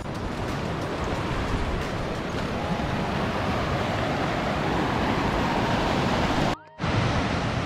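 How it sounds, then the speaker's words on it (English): Rushing creek water at a trail crossing in Desolation Wilderness in early May, a dense, steady roar of flowing water close by, unbroken apart from a momentary dropout near the end. "I just gotta figure out how to cross this creek again"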